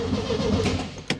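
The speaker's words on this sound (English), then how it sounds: "we can start the engine from the key" A Volkswagen Super Beetle's engine being started with the key, a short close mechanical cranking churn followed by a sharp catch at the end.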